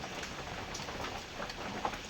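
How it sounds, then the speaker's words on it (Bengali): Constant hiss of rain falling outside, an even, dense patter with no pauses. "বাইরে বৃষ্টি হচ্ছে প্রচুর"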